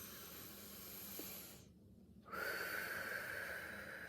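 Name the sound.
deep breathing in and out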